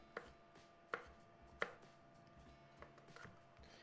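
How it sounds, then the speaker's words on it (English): A knife cuts smashed garlic cloves into strips, giving three or four crisp, quiet taps against a faint, hushed kitchen background. "you just smush it and then you can cut it into strips"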